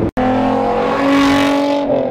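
VR6 engine exhaust on a car in an open roadside spot, a loud close rev held and swelling briefly before easing off, with no talk over it.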